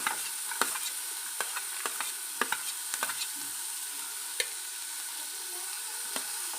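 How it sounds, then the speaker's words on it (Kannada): Ginger and garlic fry in a pan with green chilies for kushka, a soft, steady sizzle broken by sharp clicks and taps of a stirring spoon against the pan, with no voices. "ಇದನ್ನು ಫ್ರೈ ಮಾಡ್ತೀನಿ ಶುಂಠಿ"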